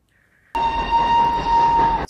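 A train arriving in the film Schindler's List, bursting in suddenly with a loud sustained whistle over heavy rumbling wheels and carriages, close and continuous.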